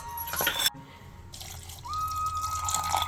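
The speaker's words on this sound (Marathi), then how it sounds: "आता थोडं पाणी टाकलंय." Water is poured from a tap into a mixer jar holding ground peanuts, coconut and garlic, giving a quiet running, splashing trickle that starts and stops, heard alone with no talk.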